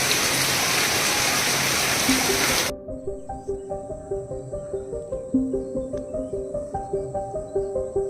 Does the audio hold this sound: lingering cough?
no